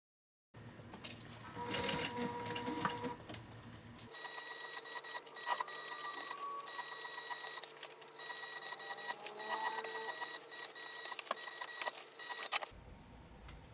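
A sewing machine runs in sustained bursts while top stitching around a fabric bag, with a steady mechanical whir and ticking needle rhythm, close and moderately quiet, pausing briefly midway and then running on.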